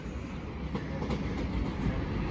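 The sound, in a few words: train 37418 approaching platform at Dover Priory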